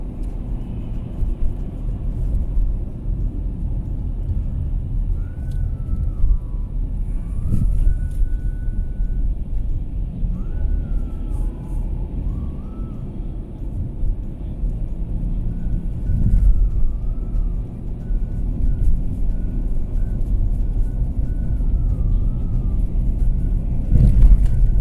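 A car drives along an early-morning road in Ontario toward Toronto, giving a steady low engine and road rumble that swells gradually, with faint higher tones over it.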